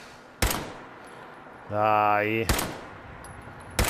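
Gunfire in the video game Fallout 4: loud single shots ring out at intervals, with a rising whirring machine sound between them and a brief spoken word from a player.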